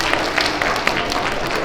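Second-grade students applaud at a school character education assembly, a dense, loud patter of many small hands clapping at once that fills the short stretch.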